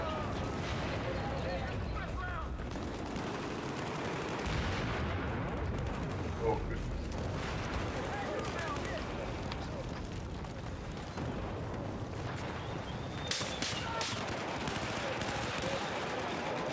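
Suppressive automatic gunfire in Battlefield 4 during a 32 v 32 Xbox One match, a dense continuous barrage of shots and explosions filling the whole stretch, with voices in the mix.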